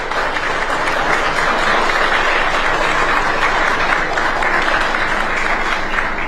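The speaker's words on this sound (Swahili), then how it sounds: "nimeona makofi yamekuwa mengi" Loud, dense applause from an audience at a Mapinduzi Cup 2026 team announcement, continuous steady clapping filling the room without a break.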